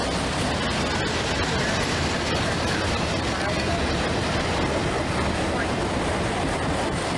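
A Burlington Northern freight train with an auto rack car rolls past, a steady broad roar and rumble filling the whole stretch without letup, loud and close.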